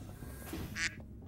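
A single short duck quack from the video game UnMetal, faint and brief, set against quiet background game noise.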